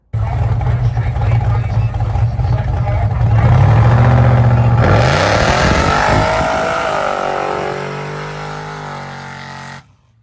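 A 1,200hp ProCharged LS mega truck, about 11 feet tall and nearly 12,000 pounds, roars loudly up through the revs before the engine note falls away and cuts off near the end.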